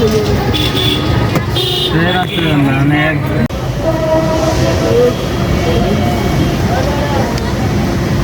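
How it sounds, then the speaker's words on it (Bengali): A passenger train passing near a railway signal in Gazipur, a loud continuous rumble and rattle of wagons with squealing tones, while people talk over it throughout. "ট্রেন যাচ্ছে"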